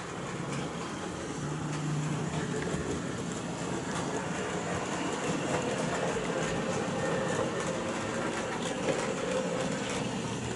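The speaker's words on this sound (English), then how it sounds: "Train comes through there." A model train runs along a layout track with steep gradients, a faint continuous rolling rumble with light rhythmic wheel clatter that carries on steadily throughout.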